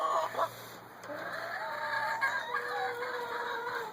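An annoyed hen sitting in a laying box gives a continuous low, grumbling cluck with drawn-out croaky notes, close and moderately loud, with no talk.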